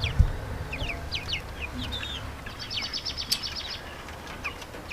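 Young chickens in a cage cluck and peep in quick bursts of short calls, close and moderately loud, with a brief thump near the start.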